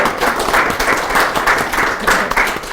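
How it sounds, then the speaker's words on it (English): A live-streamed fireside chat audience gives loud, close applause, a rhythmic wash of many hands clapping steadily throughout. "Let's give our Titans a big round of applause for being here with our Fireside Chat."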